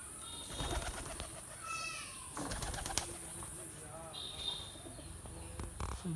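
Pigeons coo softly amid scattered bird chirps and a busy outdoor background, with faint voices in the distance.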